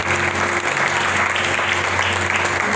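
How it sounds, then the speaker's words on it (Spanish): A church congregation breaks into strong, sustained applause, an even wash of many hands clapping at a steady level throughout, with no voice over it. "¿Cuánto dan ese fuerte aplauso?"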